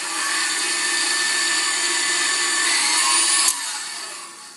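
An electric mixer beating soft chocolate cookie dough with sifted icing sugar until smooth, a loud steady whirring hum that cuts off abruptly near the end, no talk.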